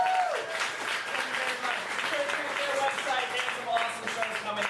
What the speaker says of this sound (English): Let's give a big round of applause to the MopCo Theater for allowing us to use the space.